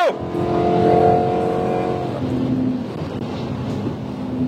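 A 1994 BMW 7 Series E38 740i V8 engine revs up and holds a high, rough drone, then settles into a steadier hum with some wind buffeting, no talking.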